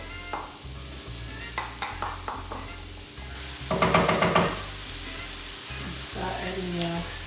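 Onions frying in a pan with garlic, sizzling steadily while a utensil stirs and knocks against the pan in several quick clusters.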